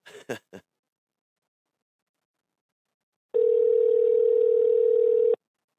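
A few short clicks of a phone being dialed, a pause of silence, then a steady electronic tone rings for about two seconds.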